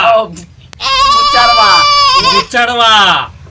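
Goat bleating loudly and close by in a rural setting, a couple of long wavering cries in a row, with people talking over and between the calls.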